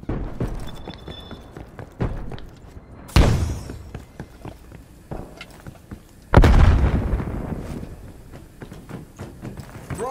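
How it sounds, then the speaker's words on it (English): Grenade blasts in the Call of Duty: Cold War video game, with two heavy booms separated by a few seconds over a busy bed of footsteps and gunfire clatter, loud and close. "grenade!"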